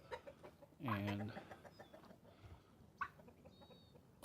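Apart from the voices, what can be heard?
rooster and chickens clucking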